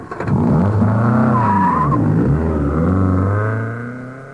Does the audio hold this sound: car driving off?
yes